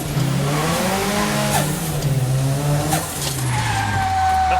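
A turbocharged Toyota Hilux pickup launching hard from a standstill: a loud engine note climbs steadily, dips at gear changes and climbs again, with some tire noise, sustained and close throughout.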